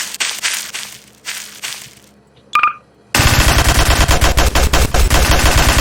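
Rapid automatic gunfire from a weapon in Garry's Mod, loud bursts with a short pause and a brief electronic beep, then a sustained barrage of heavy shots.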